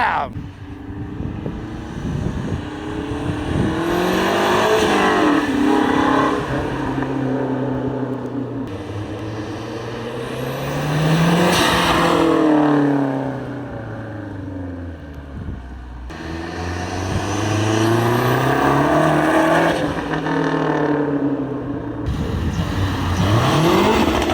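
Mazdaspeed 3 hot hatch pulling hard at wide-open throttle, its engine note rising through the revs in repeated sweeping climbs with gear changes between them, loud and close from start to finish while a voice talks over it at points.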